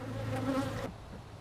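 Stirred-up honey bees buzz loudly from an agitated hive for most of a second, a dense close drone that abruptly drops to a quieter hum.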